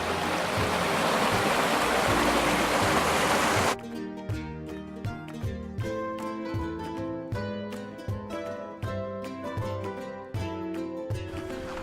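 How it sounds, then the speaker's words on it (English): A swiftly flowing stream rushes as a steady, loud broadband wash for the first few seconds, then gives way to a busy tonal sound with rhythmic notes that masks the water. "It's always nice to see a swiftly flowing stream."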